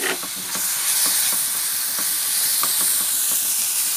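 Tomato dropped into hot, spice-browned masala for a Kerala varutharacha egg curry, giving a steady, loud sizzle and hiss with scattered stirring clicks throughout and no talking.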